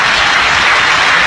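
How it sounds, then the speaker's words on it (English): Cricket test match crowd applauding a batsman's fifty on debut, a loud, dense wash of stadium clapping that fills the short moment without pause, with no voices over it. "Deserves the applause."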